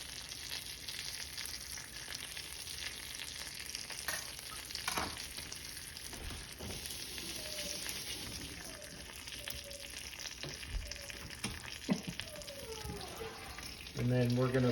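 Garlic frying in oil in a pan while a ribeye steak is pan-seared, a steady close sizzle with small stirring clicks and scrapes, a few faint squeaks, and a louder clatter at the end; talk is heard over it.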